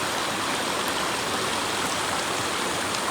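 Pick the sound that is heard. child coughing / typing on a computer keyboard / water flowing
water flowing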